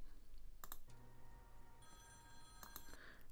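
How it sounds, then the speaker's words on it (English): A telephone rings in Devil May Cry 5, a few sharp bell bursts at moderate volume separated by pauses, set over a low background hum, with no talking. "the phone begins to ring."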